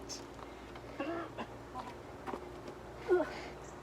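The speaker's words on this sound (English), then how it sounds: "She's angry that I have her coming out of the chicken coop" An angry hen coming out of a chicken coop clucks faintly in short, scattered bursts, with one sharper squawk near the end, against quiet background noise.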